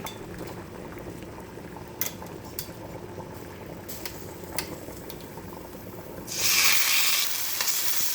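Lemon pepper swordfish steaks, thick cuts, frying in a pan on a stovetop set high, with a steady close sizzle, a few utensil clinks, and a louder hissing burst near the end.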